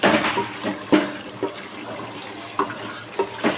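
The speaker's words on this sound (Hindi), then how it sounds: "आधी गिलास पानी डालती हूँ" Water splashes from a glass into a pot of potatoes while cooking mutton tahari, a few uneven gushes and splashes with short pauses between them.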